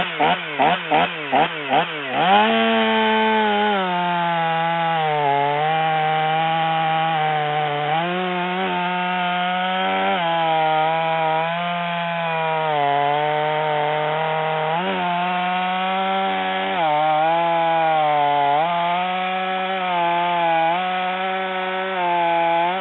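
Chainsaw cutting through ash wood: a few quick pull-start tugs, then a loud, continuous engine drone with shifting pitch as the chain bites and eases, steady and close for over twenty seconds.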